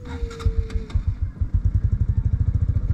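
A motorcycle engine chugs steadily up close on a ride near the Leropan River in Mindanao, its rapid low thumping rhythm quickening slightly, with faint clatter above it.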